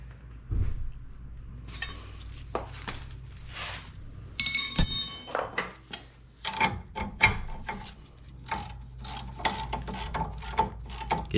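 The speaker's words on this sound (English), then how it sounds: "get your ratchet wrench going until you get to a certain point where it stops it" A ratchet wrench turns a bolt while replacing the lower control arm and sway bar link on a 2011 Lincoln MKS, producing bursts of close, rapid metallic clicking with brief pauses and a few clanks between strokes.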